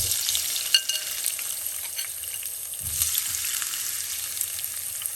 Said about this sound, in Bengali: এখন দিয়ে দিচ্ছি আমি পেঁয়াজ